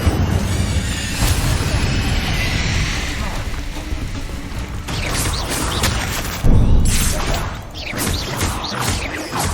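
Spell blasts from the Confringo fire curse crack and boom in Hogwarts Legacy, a run of explosive impacts, whooshes and crashes over a rumbling combat mix with someone talking throughout.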